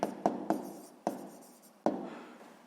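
Pen strokes on paper while writing down math notes for a sixth-grade geometry exercise: five or six short, close scratchy taps spaced irregularly, quiet and with no talk.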